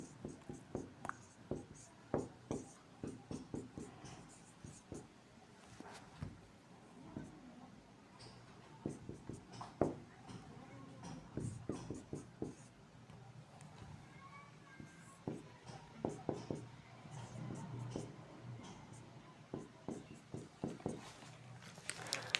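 A marker or chalk writes on a board during an organic chemistry lesson, producing repeated short scratchy strokes in quick bursts, close but quiet, with only faint murmuring between them.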